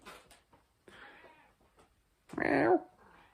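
A cat meows once, loud and close, in a short burst after a stretch of quiet indoor room sound with faint soft shuffles.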